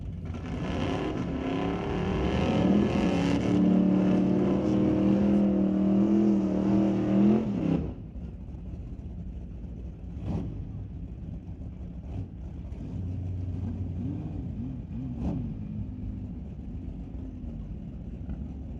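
Street-legal drag cars at a raceway on an eighth-mile run, a loud roaring engine climbing through revs for several seconds, then cutting off abruptly to a distant rumble and a fainter car passing later.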